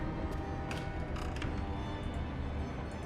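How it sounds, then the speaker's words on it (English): A door creaks open in Layers of Fear, with faint mechanical creaks and clicks over a steady background drone, quiet and somewhat distant. "Door's open."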